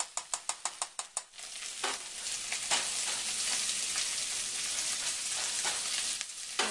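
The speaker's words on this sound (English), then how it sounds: "the carrots are starting to get a little bit crispy around the ends of the sauteing" Carrots for lentil soup sauté in a pan with a steady, moderate sizzle. A quick run of rhythmic clicking taps opens the clip, with a few stir scrapes after, and no one speaks.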